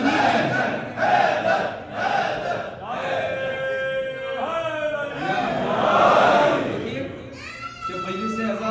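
Crowd at a Shia jashn gathering on Long Island, New York, shouting "Haidar Haidar" slogans in repeated loud collective bursts, with a few individual voices standing out, fairly close.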